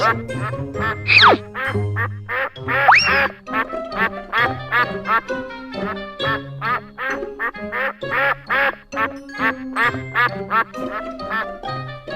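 Ducks quack over and over in a rapid, bouncy rhythm, loud and close, with a couple of higher squawks near the start.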